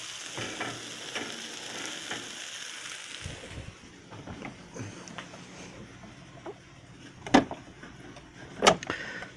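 Green papaya stir fry sizzling and frying in a pot, a steady crackling hiss with a couple of louder clanks or stirring knocks near the end; no one talks.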